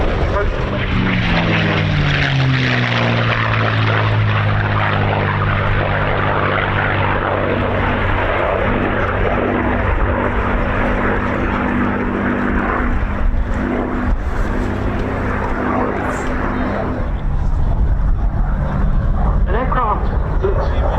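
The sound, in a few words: aircraft flying past at air show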